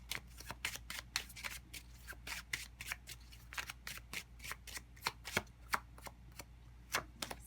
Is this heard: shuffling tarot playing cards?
yes